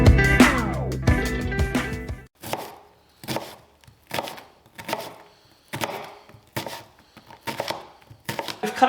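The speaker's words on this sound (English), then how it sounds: "We've cut up our onion." An onion being chopped with a knife for vodka pasta, a steady series of sharp blade taps on a cutting board, close and clear. A louder burst of kitchen clatter comes first, then about a dozen evenly spaced chops.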